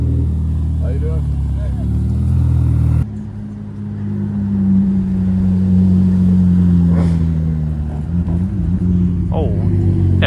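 Several Ferrari sports cars, including an SF90 XX and an F8, drive past on a small-town road during an autumn cruise, with loud engine rumble sweeping through from both directions and someone talking over it.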